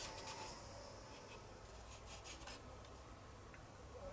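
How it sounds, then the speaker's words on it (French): Sandpaper of 600 grit rubs over a Tamiya 1/12 Porsche 934 model body, giving faint, close scratchy strokes in short bursts. "je vais poncer un coup de 600 partout"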